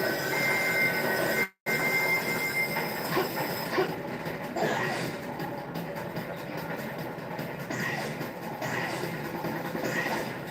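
A train rolls along its rails in the Sonic 06 video game, a steady, loud rumbling clatter with faint wheel squeal that cuts out briefly near the start before carrying on.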